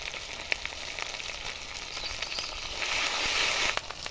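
Onion and ground spice paste frying in a pan for a pomfret fish curry, a steady bright sizzle with light crackles and occasional utensil taps, growing slightly louder before easing.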